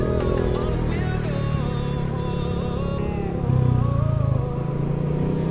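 A motorcycle on a test ride under cloudy skies, its engine droning steadily close by with shifting pitch as it accelerates, swelling louder for a moment near the end.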